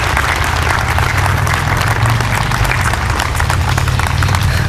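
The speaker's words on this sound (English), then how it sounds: "So another round of applause for Mike," Dense, loud applause from an audience at a Connecticut Fallen Heroes Foundation event, a steady wash of clapping sustained throughout without pause.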